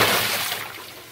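Water gushes steadily into a washing machine tub, a loud, close, continuous splashing rush that eases slightly toward the end.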